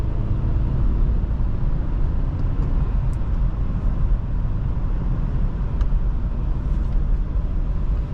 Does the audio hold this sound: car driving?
yes